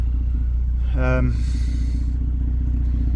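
A VW Golf Mk2 engine idles with a steady low rumble that sits evenly throughout, a brief spoken word partway, and a faint breathy hiss over the top midway.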